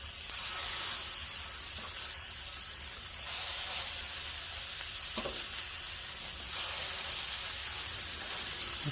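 Green chili smash burgers sizzle on a 22-inch Monument griddle, a steady loud frying hiss with small crackles and pops, no voices over it.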